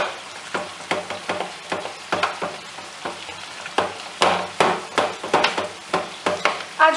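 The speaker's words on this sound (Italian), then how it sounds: "Intanto che la nostra salsiccia cuoce" Sausage sizzles and fries in a pan while being stirred, steady crackle broken by repeated scraping stirs, close and moderately loud with no talking.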